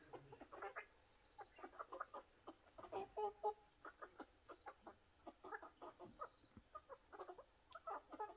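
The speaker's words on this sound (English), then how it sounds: "I'm watching chickens eat avocado." Chickens eating avocado give a run of soft, quick clucks and pecking sounds, many small bursts in a busy, irregular rhythm, close but quiet.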